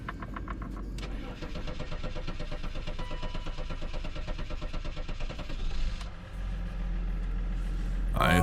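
A BMW M5 engine, started by hot-wiring, cranks briefly, catches and settles into a steady, close idle for several seconds, with a faint clatter and a louder noise at the very end.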